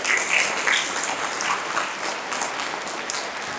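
Audience applause at a Hindi poetry recitation, loud clapping from a crowd that peaks early and then eases into a steadier, softer patter, heard alone without speech.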